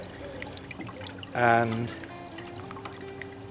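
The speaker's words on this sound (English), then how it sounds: "You can hear the water trickling inside the hull where there's a leak" Water trickles and pours inside the hull of a canal boat through a leak, a brief louder gush in the middle over a quiet background with a faint voice.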